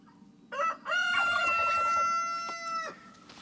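A chicken on a farm lets out one long drawn-out call close by, rising sharply and then holding a bright harmonic tone for about two seconds before cutting off.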